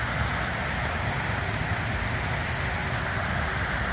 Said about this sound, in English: It's 4 o'clock now, so it's pouring down,